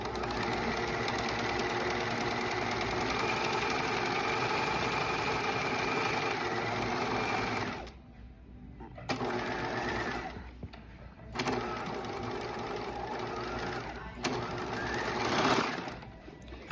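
Sewing machine stitching a flat felled or French seam, a steady fast mechanical whir running continuously, briefly stopping twice before resuming, close and fairly loud.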